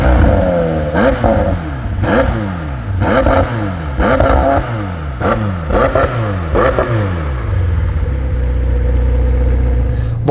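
A McLaren 720S Spider fitted with the optional Sports Exhaust fires up and revs repeatedly, a series of sharp rising blips about once a second, loud and close, before settling into a steady low idle.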